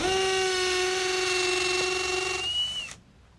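A handheld power drill boring a hole with a 5.5 mm bit for a red wall plug while fitting a radiator, a steady high motor whine that holds for a few seconds, then winds down and cuts off.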